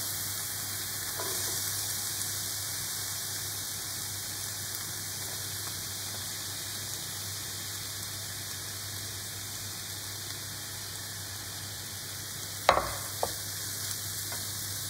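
Onion sautés in a pan with a faint, even sizzle that holds throughout. A single clatter of a utensil breaks in near the end.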